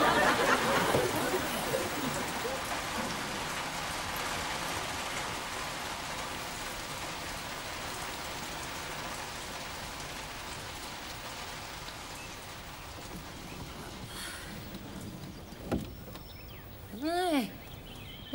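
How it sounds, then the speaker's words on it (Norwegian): Steady rain pours down outdoors as an even, hissing wash that is loudest at first and then eases slightly, running throughout with a brief higher-pitched sound near the end. "Det blir visst regn."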